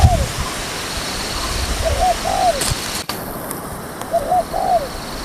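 A spotted dove (tekukur) coos outdoors in short, repeated phrases, about three soft coo sequences spread across several seconds over a steady rushing background hiss.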